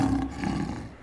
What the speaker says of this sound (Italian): E quello sarebbe un ruggito